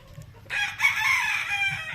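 An AAJ Gilmore Hatch gamecock, darker than a red, gives one close, loud crow lasting about a second and a half, rising after a faint rustle, with no one talking.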